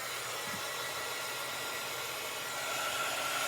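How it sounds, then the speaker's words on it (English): Hair dryer blowing on wet paint on a paper doll doodle, a steady close airy whoosh with a constant motor hum, loud and even throughout, rising slightly near the end, with no talk. "close your ears because I'm going to use"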